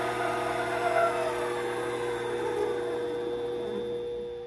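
A Vevor 7x14 mini lathe runs at top speed with no cut, giving a steady, even motor whine and hum that holds close and constant, with no talking.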